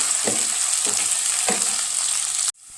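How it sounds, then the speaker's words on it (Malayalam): Rose apple pieces sizzle steadily in hot frying oil, with three soft stirring strokes at a regular pace before the frying noise cuts off abruptly near the end. "ഇളക്കി കൊടുക്കാം. വേവണ്ട, ജസ്റ്റ് ഒന്ന് വാടിയാൽ മതിയാവും."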